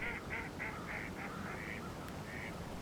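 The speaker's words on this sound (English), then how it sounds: "these ducks were enjoying the open water on the Little Bow River below Travers Dam" Ducks on open river water below a dam on the Little Bow River calling in a run of short, faint quacks, then a pause and one more call over a steady soft background wash.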